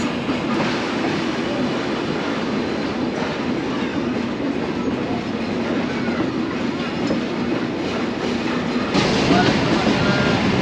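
The Sundarban Express passenger train runs along the tracks near Rajbari with a constant rumbling roar and faint clickety-clack, steady throughout.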